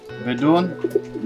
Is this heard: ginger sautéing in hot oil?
no